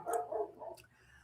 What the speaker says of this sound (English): My neighbor's dog is barking like always.